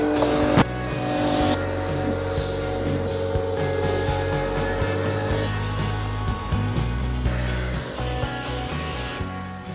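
A pressure washer blasts heavy muck off a 4WD vehicle, giving a loud continuous hissing spray with shifting tone and intermittent bursts as the jet moves across surfaces, close and without speech.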